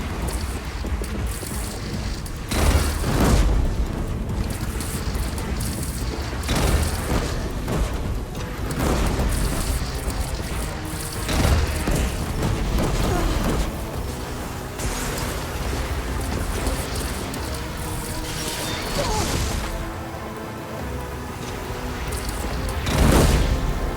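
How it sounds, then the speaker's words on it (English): Grenade explosions in Horizon Zero Dawn Remastered, a dense and loud stretch of booming blasts and rumbling debris that goes on throughout, with several sharper bursts standing out from the continuous roar. "Just absorb the grenades."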